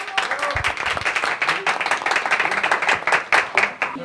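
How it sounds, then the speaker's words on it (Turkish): Warm applause from a gathered crowd at an office award ceremony as two guests are called up to cut a cake, dense hand-clapping carrying steadily for several seconds. "Şimdi de Palsa'yı kesmek üzere İbrahim Bey ve Tuğba Hanım'ı alkışlarınıza buraya davet ediyorum."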